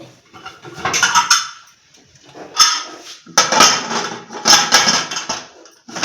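A pressure cooker handled while cooking layer chicken: several loud metallic clanks and knocks in uneven clusters, close by, with no talk.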